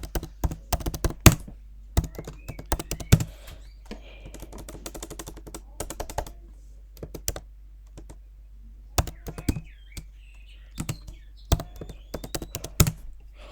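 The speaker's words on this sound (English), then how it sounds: "I'll type in my name" Typing on a computer keyboard, quick bursts of close, crisp key clicks in uneven clusters with short pauses between, fairly quiet and with no talking.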